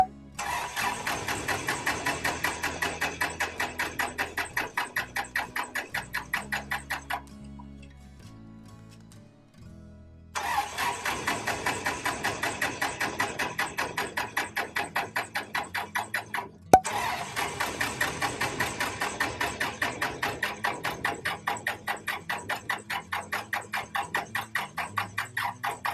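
A piston aircraft engine started for the first time after setup, with the mixture pushed rich: it cranks, catches and runs with a steady loud pulsing beat, cuts out briefly near ten seconds, then restarts and keeps running, without talk.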